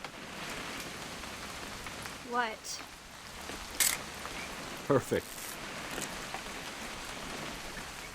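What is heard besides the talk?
rain in video game What Remains of Edith Finch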